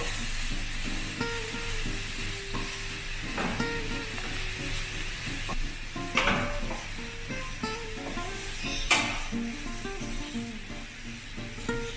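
Corned beef sizzles steadily in a hot pan as it is sautéed and stirred into a spicy masala mixture, with a continuous close fry broken by occasional scraping stir strokes.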